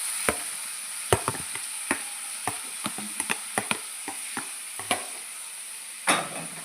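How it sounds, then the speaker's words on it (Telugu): Tomato pieces fry in oil for chintamani pachadi, a steady sizzle broken by sharp clicks and scrapes of a spatula against the pan, close and without talk. "చూడండి, టమాటా ముక్కలు వేయించుకుందాం."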